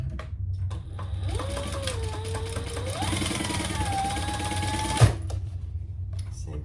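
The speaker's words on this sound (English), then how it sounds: "We're going to fold that seam down and top stitch on the fabric." A sewing machine top-stitches a folded seam on fabric for an enlarged crossbody bag, whirring steadily for a few seconds before stopping with a sharp click.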